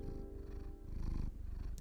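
A cat purrs in the video game Stars In The Trash, a steady low rumbling purr that runs close and continuous for the whole stretch, with no one talking.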